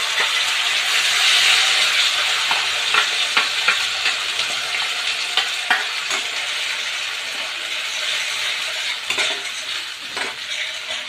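Ground spice paste frying in oil with a bay leaf and two dried red chillies, a bright continuous sizzle with scattered clinks and scraping of a spatula stirring in the pan, no talk.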